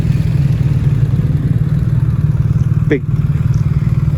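A 5,700cc, 355-horsepower V8 drag motorcycle engine runs steadily and loudly with a deep, even rumble throughout, a voice speaking briefly over it.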